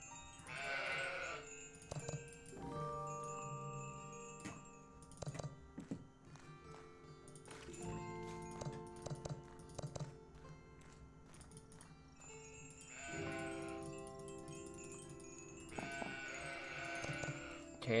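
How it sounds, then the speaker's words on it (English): Sheep bleating in the puzzle game Old Man's Journey, several drawn-out bleats in separate bursts near the start and again near the end, with soft clicks and game music between. "Sheep go that way."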